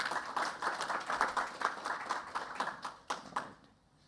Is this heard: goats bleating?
no